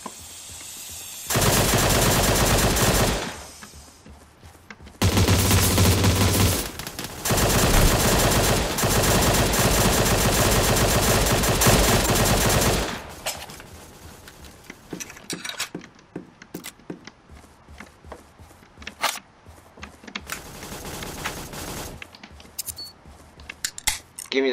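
Bursts of rapid automatic gunfire and sharp rifle shots crack through a Surviv.io battle royale match, coming in long loud volleys separated by short gaps, then scattered lighter shots near the end.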